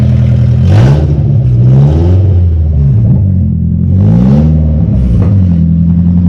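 A KA24DE-swapped Datsun 620 with a loud custom exhaust revs hard twice, the engine note climbing and falling back to a rough, rumbling idle between blips, close and loud throughout.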